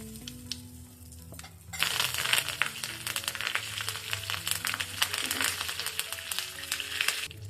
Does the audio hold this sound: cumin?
yes